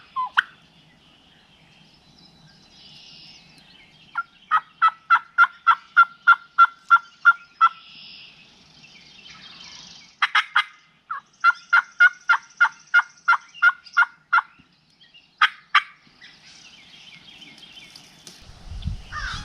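Several rapid bursts of wild turkey gobbling at moderate distance in Illinois, each a quick rattling series of calls, separated by pauses, with faint outdoor ambience between.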